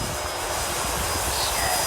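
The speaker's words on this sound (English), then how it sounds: "It's just such a stable, easy flying airplane." An E-flite Turbo Timber Evolution RC airplane flies overhead in the wind, its electric motor giving a steady, moderate whine with a faint high tone that holds evenly throughout without pause.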